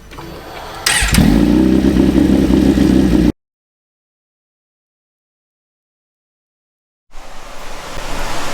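A 2020 Suzuki GSX-R 1000 superbike on a dyno, engine roaring loud and close at sustained high revs for a couple of seconds before cutting off abruptly to silence, then rumbling faintly back in.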